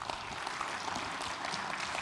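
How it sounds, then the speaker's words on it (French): An audience at a start-up pitch forum applauds, a dense, fairly faint wash of clapping that holds steady for a couple of seconds. "On vous applaudit."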